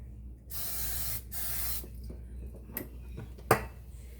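Oil is sprayed onto food in a kitchen in two short bursts, each a loud close hiss, followed by soft clinks of dishes and a sharp clatter.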